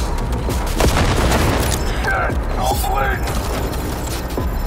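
Chaotic Cyberpunk 2077 combat on Xbox Series X with booming grenade explosions and gunfire crackle, dense and loud, with a voice talking over the action in Hindi.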